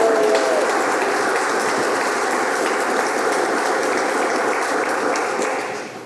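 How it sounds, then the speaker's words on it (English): Audience at a Maryland government event on an environmental justice executive order applauds, a loud, sustained, dense clatter of clapping that holds steady before tapering off at the end, with a brief voice at the start. "Let's give a round of applause."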